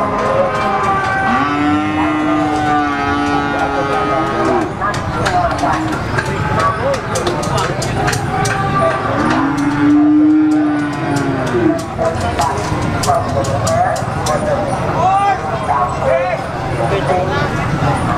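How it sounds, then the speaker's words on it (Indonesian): Brahman cows mooing at a cattle market in Ngawi, East Java, Indonesia, with several long, loud low calls rising over a busy crowd of people talking throughout. "Sapi betina Brahman super."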